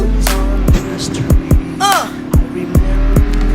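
Video game car engine with a steady drone and repeated sharp thumps, plus a brief tire squeal and rising whine, loud and up close with no voices.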